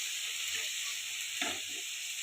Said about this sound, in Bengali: 1 চামচ হলুদ গুঁড়ো, 1 চামচ ধনে গুঁড়ো, 1 চামচ জিরে গুঁড়ো দিয়ে এটাকে আমি নাড়াচাড়া করছি।